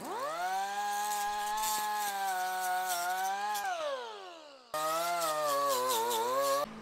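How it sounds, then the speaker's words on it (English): A power tool sands a tight bearing housing while a welding indexer is built: a loud, high motor whine runs, winds down in pitch, then starts again for a second, shorter run. "I'm have to sand this housing just a little bit"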